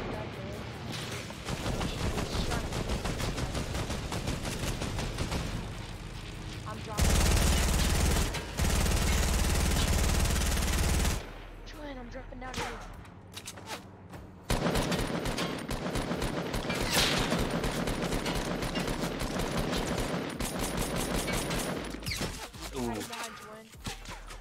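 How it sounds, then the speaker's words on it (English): Rapid bursts of gunfire in an online shooter video game crackle and rattle almost nonstop, loud and close, with people talking over the shots. "Someone shooting at us."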